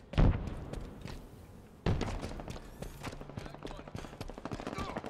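Gunfire in Halo Infinite beta multiplayer: two heavy shots ring out near the start and again just before two seconds, followed by a steady run of rapid bursts. A voice talks over some of it.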